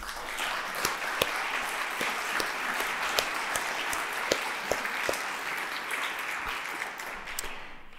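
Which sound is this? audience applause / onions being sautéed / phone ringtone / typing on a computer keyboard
audience applause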